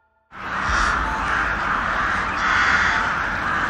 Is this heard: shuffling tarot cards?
no